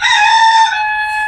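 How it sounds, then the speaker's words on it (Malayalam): Large rooster crowing on a buffalo farm, a single loud, close cock-a-doodle call with a sustained trailing note, heard alone. "ഇതിലെ വലിയ കോഴിയാണത്"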